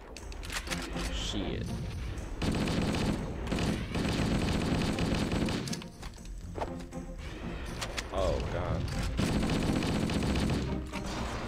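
Small arms gunfire rattles in the Halo video game, loud bursts of automatic fire in long stretches broken by short pauses, with game sounds mixed in.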